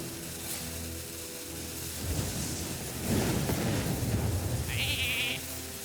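A sheep bleating in the Hearthstone card game, a single short nasal bleat near the end over a low game soundtrack and crowd murmur, preceded by rumbling effects.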